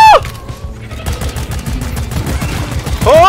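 Rapid automatic gunfire in the video game Deep Rock Galactic, a fast, steady stream of close shots running throughout, with whistling game sounds at the start and end.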